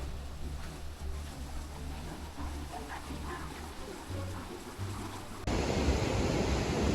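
Strong rushing water at Jok Kradin waterfall near Ban E-Tong by the Vajiralongkorn Dam swells into a loud, close, broadband roar near the end, following a steady low rumble.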